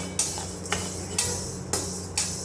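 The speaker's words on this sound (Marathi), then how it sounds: "आता वाटाण्याची डाळ तिकडं मम्मी भाजते, खमंग भाजून घ्यायचं, आणि इकडं मी ही तुरीची भाजते" A spatula scrapes through toor dal being dry-roasted in a kadhai, with about five evenly spaced, close, gritty strokes over a faint steady hiss, no voices.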